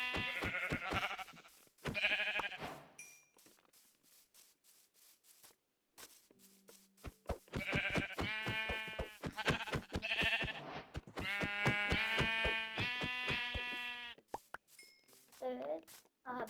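Sheep bleating in Minecraft, several wavering bleats in bursts of varying loudness with short gaps between calls, alone with no talk.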